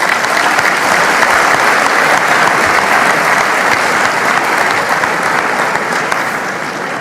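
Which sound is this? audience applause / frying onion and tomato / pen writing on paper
audience applause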